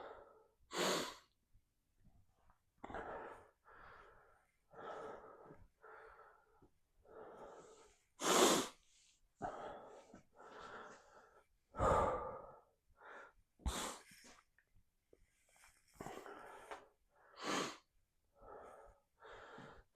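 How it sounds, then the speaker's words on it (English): Repeated short sniffles and breaths from a woman with a cold or allergies during a dumbbell-only leg workout, recurring roughly every second or two across the stretch, close and fairly quiet, with no talking. "Sorry if you keep hearing like the sniffles and stuff"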